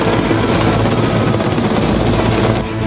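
Loud, close helicopter rotor and engine roar from a flypast honouring doctors and medical staff in Ahmedabad, Gujarat; a continuous heavy thudding drone throughout, easing slightly at the very end, with no talk.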